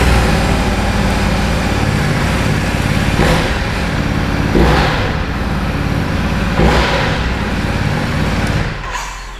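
Ducati Desert X adventure motorcycle engine running loud and close, a steady throbbing idle broken by several sharp revs before cutting off at the end.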